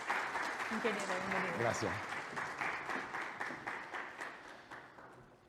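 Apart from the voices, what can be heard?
audience applause welcoming a panel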